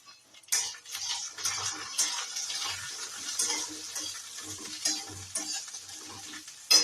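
Pointed gourd (potol) frying in a pan, a steady close sizzle broken by repeated clinks and scrapes of a utensil stirring, with no talking.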